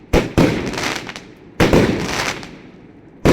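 Thunder King Cosmic Fireworks burst in four loud, close explosions, each sharp crack followed by a crackling, sizzling tail that fades before the next blast.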